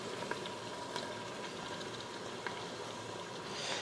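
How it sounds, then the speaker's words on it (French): Minced garlic and onion sautéing in a Cookeo multicooker, a steady dense sizzle with scattered small pops and crackles throughout, close and fairly quiet. "Et maintenant, on va faire revenir tout ça, l'ail et l'oignon, pendant quelques minutes."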